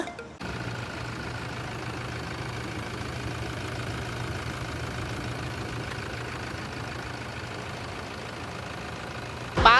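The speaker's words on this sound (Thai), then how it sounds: "ลองฟังเสียงเครื่องดู" Toyota Vigo Champ 3.0G double cab prerunner, a 2012 manual pickup, idling with a steady, even low hum and faint mechanical ticking, alone and moderately close.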